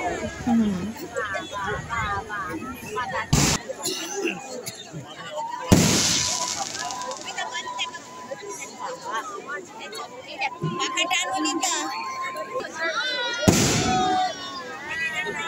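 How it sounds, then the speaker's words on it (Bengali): Firecrackers burst one after another at a festive outdoor display, with a few loud, sharp bangs spaced several seconds apart amid distant popping, crowd babble and people talking throughout. "দেখো একের পর এক বাজি ফাটছে"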